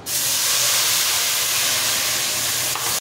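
Chili and garlic paste dropped into a hot pan, a loud, steady hiss of sizzling that starts abruptly and continues for about three seconds before cutting off.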